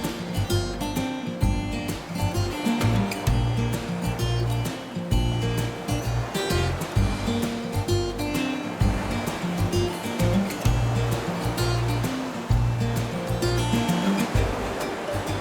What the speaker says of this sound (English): we're greeted by a long pristine white beach, crystal clear waters, and soaring cliffs of up to 200 metres high